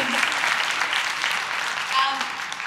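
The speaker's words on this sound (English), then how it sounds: "Let's give a round of applause for that." Applause from a panel audience at an education conference, a steady wash of many hands clapping throughout, with murmured voices mixed in.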